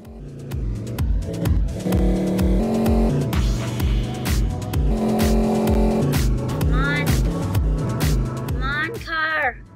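Car engine in a car simulator video game revving through repeated rising pitch sweeps as gears shift, with squealing tires near the end and a voice speaking over it.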